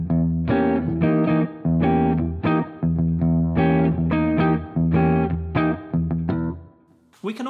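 Electric guitar with distortion and effects plays a decorated diminished chord in a 7-8-8-8 voicing, loud and close, struck as a series of rhythmic chord hits with short gaps before fading out.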